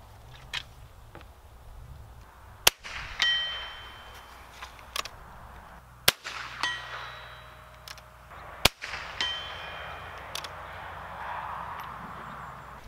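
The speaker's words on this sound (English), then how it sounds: "I'm going to throw a few more chunks of lead down range here at the steel target." Three sharp rifle reports from a Stevens Favorite Model 1915, each followed by a faint metallic ring of lead striking a steel target downrange, spaced several seconds apart over quiet outdoor background.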